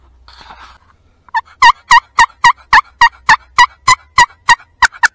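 A big wild turkey tom gobbles nearby during a Minnesota hunt. Loud rapid gobbling notes come in a quick regular run of about fifteen pulses after a faint murmur.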